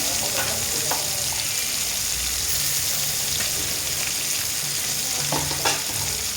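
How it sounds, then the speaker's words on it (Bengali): Chopped onions fry steadily in hot oil, a dense, continuous sizzle that stays loud and even throughout with no voices over it. "তেল দিয়ে দিই, পেঁয়াজ কুচি দিয়ে দিলাম"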